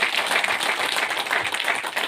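A crowd claps loudly and densely at a BJP party office bearers' meeting at the party headquarters in Trikuta Nagar, Jammu, a continuous close burst of applause throughout.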